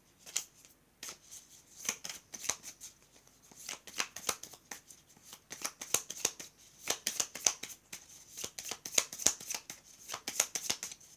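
Tarot cards shuffled by hand for a reading, a close, crisp series of riffling and flicking bursts that repeat steadily with short pauses, no voices.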